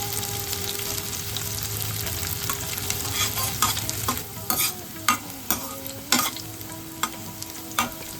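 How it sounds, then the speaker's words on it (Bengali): Bitter gourd pieces fry in hot mustard oil in a wok, a steady close sizzle broken by repeated scraping clinks of a spatula stirring in the later half. "উচ্ছেগুলোকে ভেজে নিচ্ছি।"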